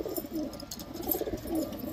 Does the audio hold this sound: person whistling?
no